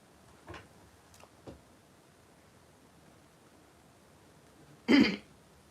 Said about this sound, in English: I just have a slight cough.